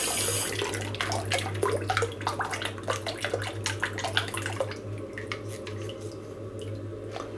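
Hot water runs from a tap into a basin, a steady splashing rush with scattered drips, close and fairly loud, softening toward the end.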